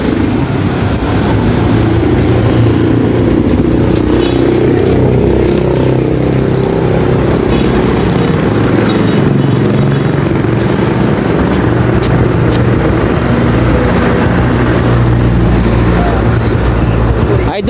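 A motorized tricycle in the Philippines runs its engine with a loud, steady droning rumble that continues unbroken throughout.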